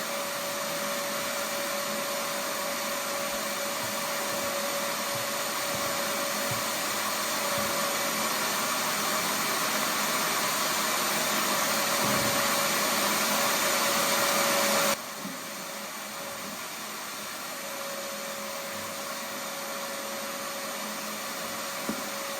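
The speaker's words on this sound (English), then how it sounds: "let's see what this thing can do test" A shop vac mounted on a mobile cart runs with a loud, steady whine while sucking up sawdust from a bucket, its pitch holding constant before the tone shifts slightly and continues at a lower level.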